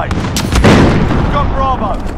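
A cruise missile explodes in the video game Call of Duty: Modern Warfare, heard as loud booming blasts with gunfire-like cracks during a ground war battle, followed by radio-style chirps.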